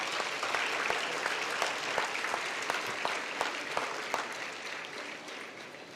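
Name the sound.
applause for the awardees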